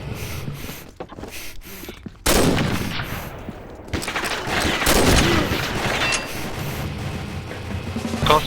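Video game gunfire crackles in dense bursts, with rapid automatic volleys and sharp single shots over a loud steady battle din, starting quieter and then jumping in intensity.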